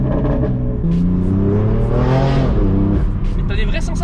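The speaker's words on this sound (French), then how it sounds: "Les deux turbos qui chargent." Stage 2 BMW M4 Competition with a 550-horsepower twin-turbo engine accelerating hard, its loud tone climbing through the revs before easing off with brief whooshing bursts as the throttle lifts.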